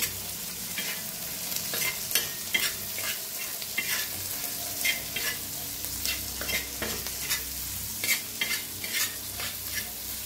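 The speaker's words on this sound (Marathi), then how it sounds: "कांदा टमाटर चांगलं भाजले, त्याच्यात टाकूया एक अर्धा चमचा हळद, लाल तिखट, मिक्स करून घेऊया।" Onion and tomato masala with turmeric and red chilli fries and is stirred in a pan for an egg curry, a steady close sizzle broken by repeated scraping strokes of a spoon, with no voices.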